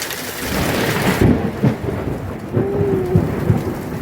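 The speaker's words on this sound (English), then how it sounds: "We had a huge thunderstorm" A huge thunderstorm: heavy, steady rain pours down while deep thunder rolls and rumbles close by, loud and continuous with no voices.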